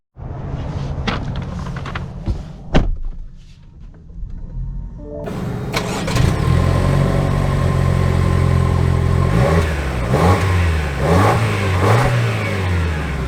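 A 2023 Lexus RX 350 starts and pulls away, a few mechanical clicks and knocks giving way to a close engine note that rises and falls through repeated accelerations with shifts, loud and without talk.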